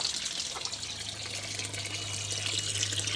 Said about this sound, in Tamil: இந்த கோலா பைப்பு பாருங்கள், ரொம்ப நாளைக்கு அப்புறம் தண்ணி வருது.